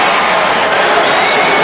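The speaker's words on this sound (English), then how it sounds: "Crowd reacts with Michael Jordan called for his 4th foul" A large basketball arena crowd at an NBA Finals game roars steadily in reaction to a foul call, a dense loud wash of voices and cheering throughout.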